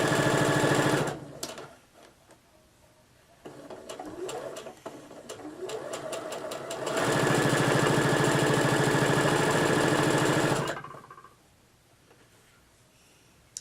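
FOF Passport sewing machine stitching appliqué lettering onto a table runner with a quarter-inch foot, running in long steady whirring bursts with short stops between them, close and loud.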